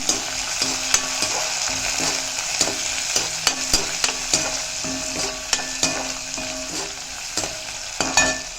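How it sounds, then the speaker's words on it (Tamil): Finely chopped onion sautés in a hot pan with a steady, close sizzle throughout, punctuated by frequent sharp clicks and scrapes from stirring. "அதை போட்டுக்கிறேன் போட்டுட்டு வெங்காயம் நல்லா வதங்கட்டும்"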